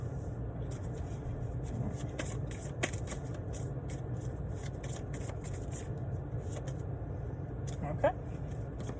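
Cards being shuffled for a pick-a-card reading in quick riffling bursts with scattered clicks and snaps, close by, under a steady low background hum.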